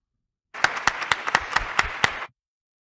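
Applause at a political event where Isabel Díaz Ayuso claps alongside others: a short, steady burst of crowd clapping with sharp, evenly spaced louder claps standing out, starting abruptly and cutting off after under two seconds.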